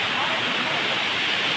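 A continuous heavy rush of water pours from Maharas Falls in Matuguinao, Samar, Philippines, a loud, even, hissing roar heard up close without pause.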